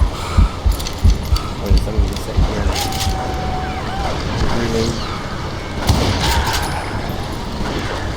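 Gunfire in the Western video game Call of Juarez: Gunslinger, a rapid string of sharp shots in the first two seconds, then sporadic reports over a busy, noisy game soundscape with talking at points.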